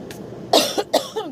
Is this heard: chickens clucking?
no